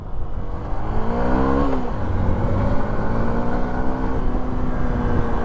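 A Hero Impulse motorcycle engine revs close by, the pitch rising and then dropping before it settles into a steady, loud running drone with no talk.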